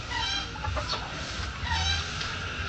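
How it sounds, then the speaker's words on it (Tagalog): Ducks kept behind a house call in short, throaty bursts. Several close, fairly loud calls overlap against a continuous farmyard background. "Likod ng bahay, yung mga bibe."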